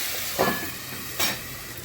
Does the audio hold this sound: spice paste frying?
yes